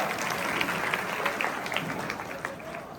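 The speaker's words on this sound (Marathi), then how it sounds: "पुन्हा एकदा टाळ्या" Steady applause from a crowd at a 2025 Shendurni Nagar Panchayat election event, dense clapping that holds at an even level throughout without a break.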